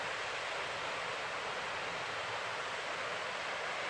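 A waterfall flowing under a road on the drive toward Dorrigo roars as a constant, broad rushing wash, loud and unbroken with no voices over it.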